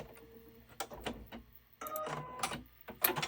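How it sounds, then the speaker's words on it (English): Sewing machine fitted with a 1/4-inch foot stitching binding onto a quilted table runner, heard as short bursts of rapid mechanical clatter with brief pauses between runs, close and fairly loud with no talking. "Using my 1/4-inch foot, I am sewing my binding on all the way around."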